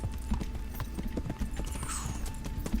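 Horse hooves clip-clop at a steady walking rhythm in the video game Kingdom Come: Deliverance, close and fairly loud, with a short neigh-like sound in the middle.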